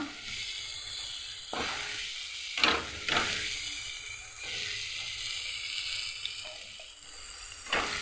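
Fish roe of shad (shaadi/thede fish) sizzling and frying in a hot pan, a steady bright crackle throughout with brief louder bursts of spattering and stirring, close up and with no talking.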